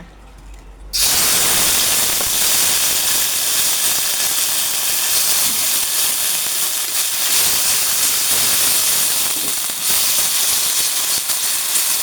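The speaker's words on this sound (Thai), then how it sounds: "กระทะก็เริ่มร้อนแล้วนะคะ เราก็จะใส่พริกแกงเผ็ดลงไปนะคะ" A sudden loud sizzle erupts as red curry paste hits a hot wok with a little oil, then a continuous, crackling hiss of frying carries on steadily throughout.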